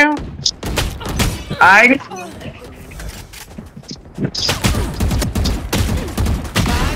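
Bursts of gunfire from a deathmatch video game crackle in short, loud volleys, with one dense rattling stretch, while someone talks over most of the shooting.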